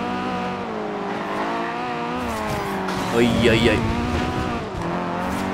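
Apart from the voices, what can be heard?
Renault Clio driving, engine and tires, video game Forza Horizon 2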